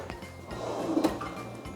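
A kitchen drawer in a rental apartment slides open with a soft wooden rumble and faint clinks of its contents, close and moderately quiet, with no talking.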